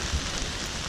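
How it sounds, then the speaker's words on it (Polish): Steady rain falls across a street in Kyoto, a dense, even hiss of drops spattering on surfaces, close and constant with no voices. "Może przestanie, ale pada od wczoraj."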